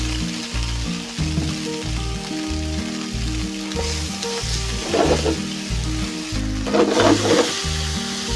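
Garlic fries in a hot pan at the start of a Chinese-style chicken stir fry, a loud steady sizzle broken by rhythmic scraping strokes and louder bursts of spattering, close up with no talk.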